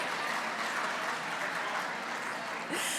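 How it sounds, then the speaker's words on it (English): An audience at a women's business awards event applauds in a steady, dense wash of clapping that stays even throughout. The applause sounds somewhat distant in a large room. "Yeah, I like to applaud for food."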